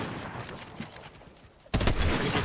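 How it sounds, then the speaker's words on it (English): Gunfire crackles in a Fortnite Zero Build match, faint scattered shots followed by a sudden loud close blast that sustains with heavy noise to the end. "Oh, I just got headshot sniped."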